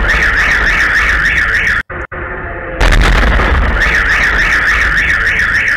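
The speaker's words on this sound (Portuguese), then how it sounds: "Só dá para ouvir o barulho e depois os carros atingindo, uh, acionando o alarme" A loud, sharp explosion in Rostov-on-Don cuts through a blaring car alarm, then several car alarms wail on together, steady and piercing, with a warbling siren tone.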